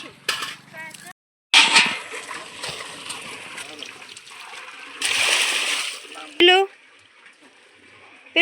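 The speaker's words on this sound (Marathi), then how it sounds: "पडतोय पाणी नीट धर खाली सांडतय" Water gushes and splashes from a borewell pipe into a container in loud bursts, with people talking nearby and a brief silent gap.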